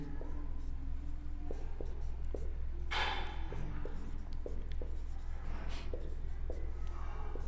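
Hindi alphabet letters are written on a board with a pen or chalk, short scratchy strokes tapping out in a rhythm beneath a soft steady hum in a classroom.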